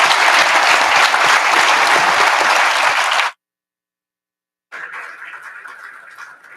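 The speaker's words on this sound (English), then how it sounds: "So join me in a big applause to all of them" Audience applause for leaders at a Latin American business leadership event, loud dense clapping that cuts off abruptly into silence before a softer burst of clapping resumes.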